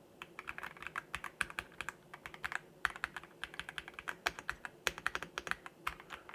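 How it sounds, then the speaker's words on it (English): Keystrokes on an ELMWAY KZZI K68 PRO mechanical keyboard clatter in a steady, busy stream of close, crisp clicks with slightly cushioned thock, with no voices present. "One thing I haven't spoken about is the actual noise of the actual keyboard."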